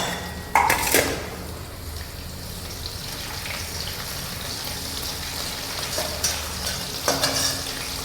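Green chillies drop into a hot pan for spicy Maharashtrian methi bhaji, a sharp burst of crackling at first, then a steady close sizzle with occasional stirring scrapes and pops.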